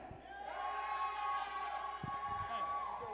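A wrestling crowd in Atlanta cheers and shouts in a sustained, fairly distant roar, with a few whoops rising above the noise throughout.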